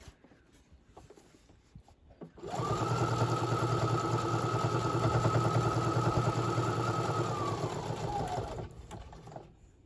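A sewing machine stitches a small fabric mini prayer quilt, its motor starting up and running in a steady, close buzzing hum for about seven seconds before winding down.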